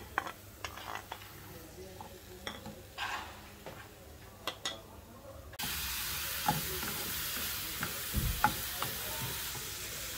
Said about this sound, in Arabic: غادي نزيدوا عليها البصله اللي ديجا شلضنا، غادي نقطعها بحال هكا. بسم الله. نديروها المقيله